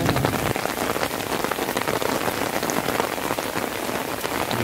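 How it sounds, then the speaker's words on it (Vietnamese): Heavy rain pours down steadily during an outing fishing from a bank, a loud, close, continuous hiss and patter of drops with no pauses and no talk. "Rồi, đang mưa to lắm anh em ạ."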